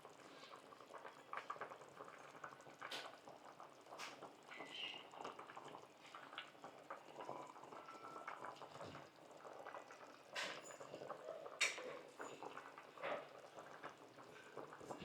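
Pot of Nellore-style fish curry at a soft boil, with quiet continuous bubbling and irregular small pops throughout, close and gentle, no voices.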